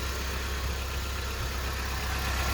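A Toyota Carina engine idling just after an oil change, a steady low rumbling hum with a smooth, even drone, close and continuous with no talk.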